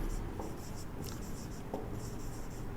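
Pen or chalk writing out a Class 9 maths solution, steady scratchy strokes close by, continuous and fairly quiet with brief pauses between strokes.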